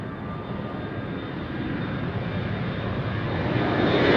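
An airliner on short final into Madeira Island Airport roars past with a broad, swelling engine rush that grows steadily louder over several seconds, heard alone.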